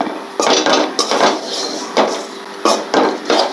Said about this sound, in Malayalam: എന്നിട്ട് നല്ലപോലെ ഒന്ന് ഇളക്കി കൊടുക്കുക.